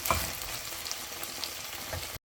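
Chicken pieces sizzling and crackling steadily in hot oil in a pan, a continuous close fry with small pops, briefly cutting to silence at the very end.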